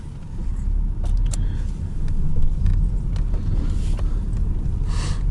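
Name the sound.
car setting off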